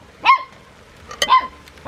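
A puppy lets out two short, high yapping barks about a second apart, close by and clear over a quiet room.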